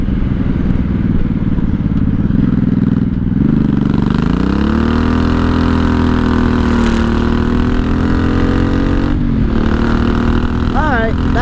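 A 1983 Honda Shadow VT750C with straight pipes pulls hard and loud from close range, its engine note climbing and settling through steady acceleration on back roads, with a brief dip before pulling again.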